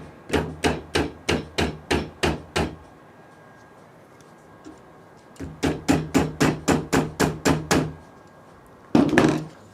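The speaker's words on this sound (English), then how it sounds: "where's my little hammer?" A small hammer taps parts into a Voron 3D printer frame during a Y-axis build: two steady bursts of about ten sharp, evenly spaced close taps each, separated by a quiet pause, then a final heavier knock.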